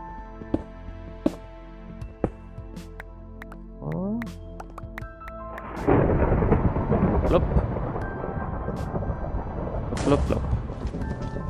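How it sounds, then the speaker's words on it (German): Rolling thunder with steady rain from modded Minecraft 1.12.2, starting after scattered clicks and a brief sweeping tone, then loud and continuous. "Mann, das ist voll das starke Gewitter, ey."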